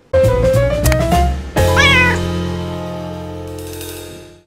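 A feral cat named Simba, hiding in a cat tower, lets out drawn-out growling yowls: one long rising cry, then a second wavering one after a short break. The sound is close and loud, with no talk.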